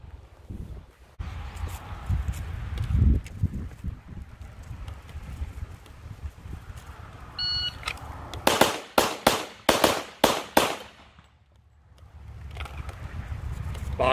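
Rifle shots fired at shooting targets ring out in a fast string of sharp, loud cracks near the end, preceded by wind noise and handling rumble, then a quiet gap.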